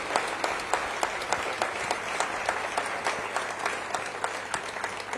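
A seated audience gives a sustained round of applause for members of parliament at an Indian democracy event in London, dense steady clapping throughout without any voices.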